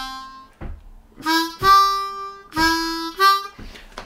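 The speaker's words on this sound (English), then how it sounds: "which is going to be the four chord bass line," Harmonica plays a short four chord bass line lick, a few clear held notes with brief breath gaps, close and solo.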